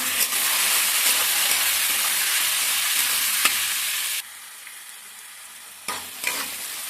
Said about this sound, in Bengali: কড়াইতে তেল দিয়ে, কড়াইটা রেগে গেলে তারপরে আলুগুলো দিয়ে দিলাম, দিয়ে নুন হলুদ দিলাম, দিয়ে এবার আমি ভালো করে ভেজে নেব।